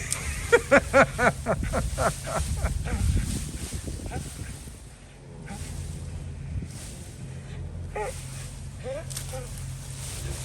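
An excited dog named Mabel tears at something at a Gas-O-Rama event, giving a rapid burst of short yips and barks, then snuffling and scuffling, while people talk nearby.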